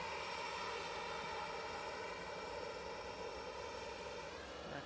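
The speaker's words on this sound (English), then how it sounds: "There's these jets going off to Bilbao now." A jet airliner departs from Manchester Airport, its engines making a faint, steady distant roar that holds constant throughout, with no talking.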